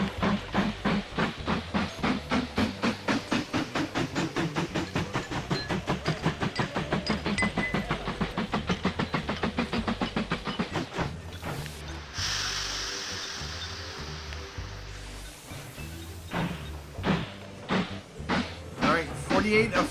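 A steam train runs in the Mashinky video game, with loud rhythmic chuffs pounding steadily before giving way to a long, broad hiss of venting steam, then the regular chuffing returns.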